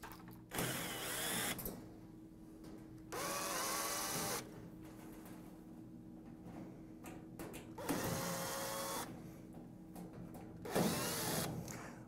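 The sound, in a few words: removing screws from the back panel of a Moffat appliance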